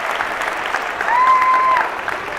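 An audience claps in a sustained burst of applause that swells slightly toward the middle, a dense wash of hand claps filling the room.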